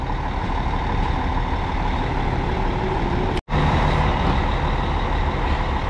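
A Viação Garcia coach, number 82-119, idling at a bus station with a steady diesel rumble, a brief sharp dropout midway, then the engine drone resumes loud and close.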